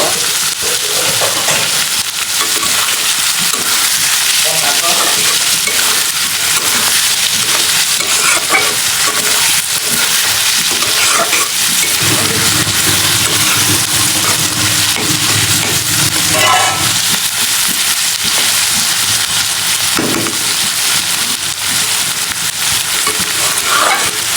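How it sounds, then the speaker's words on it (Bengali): Chopped onion and garlic fry in hot oil, making a loud, continuous crackling sizzle. Scraping stirring sounds come and go throughout, with no talk. "পেঁয়াজ কুচি আর হচ্ছে রসুন কুচি দিয়ে দিয়েছি তেলের সাথে এখন একটু ভেজে নিব"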